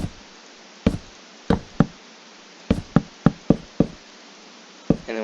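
Minecraft blocks are placed one after another while building up the pillars of a medieval-style house, sharp wooden knocks coming singly and in quick pairs, about a dozen of them, crisp and close against silence.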